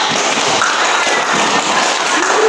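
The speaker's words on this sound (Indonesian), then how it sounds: "kasih tepuk tangan dulu." A classroom of young pupils claps together during an Islamic history lesson on the Rightly Guided Caliphs, a dense, steady patter of small hands filling the room without talk.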